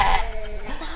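Goat bleating at Lembang Zoo, a loud, close, wavering bleat at the start that trails into a lower, thinner call under background noise.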